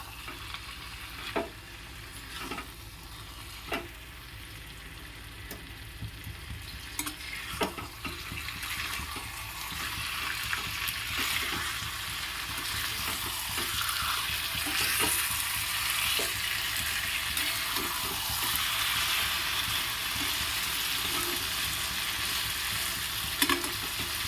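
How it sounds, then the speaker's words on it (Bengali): Vegetables are stirred into spice paste in a wok, with a few sharp scrapes and clicks early on, then a fuller, steady frying hiss that builds and holds to the end. "সব সবজিগুলো কড়াইয়ের মধ্যে তুলে নিয়েছি একদম সব সবজিগুলো এরকম করে মশলাটার সাথে মিশিয়ে দেবো"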